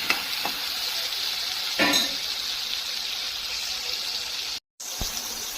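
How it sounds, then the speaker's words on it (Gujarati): A spoon stirs tomato garlic sauce with salt in a pan on the stove, with a soft steady sizzle and a few brief scraping clatters. "મીઠું નાખ્યા બાદ હું આને હલાવી લઈશ"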